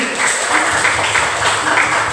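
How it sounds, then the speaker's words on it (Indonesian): A classroom group applauds after student discussion presentations, a short burst of mixed clapping with faint background murmur. "Tepuk tangan sekali lagi."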